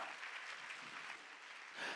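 A church congregation at a spirituality seminar retreat claps together in praise, a fairly faint but steady wash of applause that continues evenly from start to finish.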